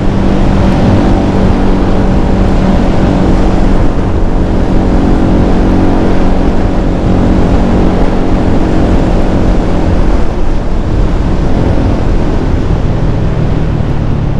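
Steady, loud engine drone from a Rusi Flash 150X FI motorcycle cruising in sixth gear on a test ride, mixed with constant wind rush across the microphone throughout, with no pauses or shifts.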